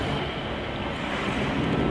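Sea waves washing onto the Manila Bay shore near Dolomite Beach, a steady rushing surf roar mixed with wind noise on the microphone, close and continuous with no speech over it.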